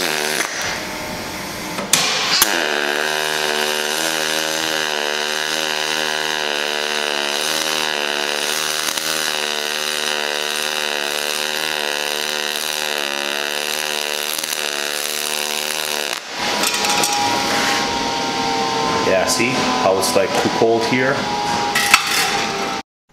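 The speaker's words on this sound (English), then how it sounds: "I weld it from left to right, pushing the wire." Pulsed wire welding on thin-wall aluminum handrail tubing gives a steady buzzing hum with a fine, even pulse that lasts about fourteen seconds, followed by a harsher crackling stretch, close and loud.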